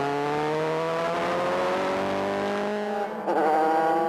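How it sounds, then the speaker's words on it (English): Asian Formula 3 race cars howl past on the track at Zhuhai, China, engine pitch sweeping steadily across the gears, loud and close, with a brief dip and a sharp surge near the end. "Entering the first corner, and Peña drove a bit wide, and this allowed Jackson to grab the inside of Peña and seize third place"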